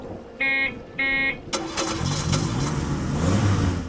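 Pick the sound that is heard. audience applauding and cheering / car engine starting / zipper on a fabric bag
car engine starting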